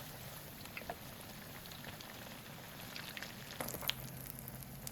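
Crispy eggplant slices frying in oil, a soft steady bubbling hiss with faint pops and light crackles throughout, somewhat quiet and close, with no talking.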